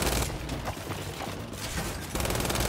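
Dense, rapid gunfire fills a Gears 5 video game firefight, with loud overlapping shots and mechanical clatter running continuously and no clear pauses.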